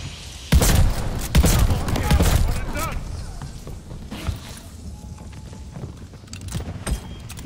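Gunfire in a first-person shooter: a few loud, sharp bursts of shots near the start, then quieter scattered reports and movement sounds with someone talking over them.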